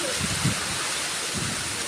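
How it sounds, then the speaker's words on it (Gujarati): Heavy monsoon rain pours down in a steady, dense, close roar with no breaks, a faint voice murmuring briefly underneath. "અને જોરદાર વરસાદ આવે છે"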